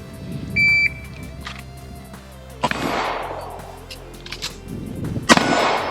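Pistol shots ring out during a one-reload-one shooting drill: a couple of sharp, loud cracks spaced a few seconds apart, each with a short decaying tail, with a faint electronic beep early on and no voices.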